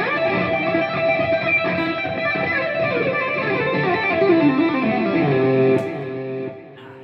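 Electric guitar solo played through a Line 6 POD HD-500 multi-effects processor, a sustained distorted lead with bending, singing notes held continuously, loud and alone before dropping off near the end.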